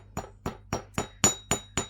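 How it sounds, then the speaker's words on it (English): Gentle, even hammer taps on wire for a handmade pendant, seven crisp metallic strikes in a steady rhythm about a quarter second apart, close and alone. "Going to hammer."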